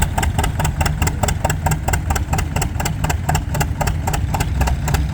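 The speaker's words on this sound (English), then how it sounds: "It's amazing how low these tractors will get down to and idle" A tractor engine idles low and steady at a tractor pull, its rapid even firing pulses continuing throughout at close range with no talk.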